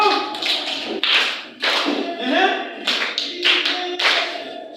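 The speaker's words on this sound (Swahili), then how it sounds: "Pigeni makofi matatu." An audience claps in short bursts, the claps rising and falling in a loose rhythm with voices mixed in.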